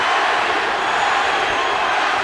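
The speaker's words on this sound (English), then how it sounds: "Filipino crowd chanting for their man, hoping for a dramatic last round knockout." A dense Filipino crowd at a boxing match between Barrera and Pacquiao roars and chants steadily, a continuous wall of voices filling the arena without pause.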